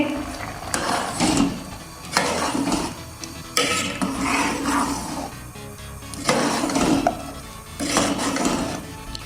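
Chickpeas with masala paste and oil are fried and stirred in a pan, giving repeated scraping strokes of a spoon against metal over a steady sizzle, close and rhythmic.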